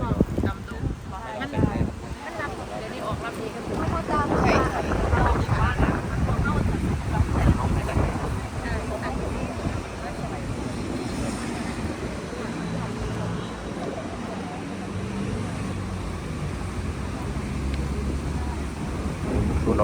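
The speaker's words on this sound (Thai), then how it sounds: "อากาศเย็นลง แล้วก็ลมพัดสบายจริงๆ" Wind blows outdoors at Phu Ruea during a music video shoot, a steady rushing buffet across the microphone throughout, with people talking intermittently underneath.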